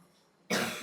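A child gives a single sudden cough close by, loud after near silence, with a short rough burst that trails off.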